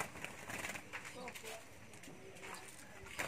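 A pet tripus bird, newly acquired, gives soft cooing calls at moderate distance over a steady background hiss, with faint voices nearby.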